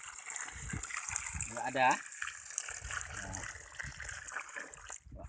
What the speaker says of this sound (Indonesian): tuangkan air ke dalam sarangnya.